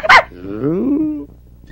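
A dog gives a single sharp bark followed by a drawn-out, whining howl that rises and fades, close by and alone with no talk.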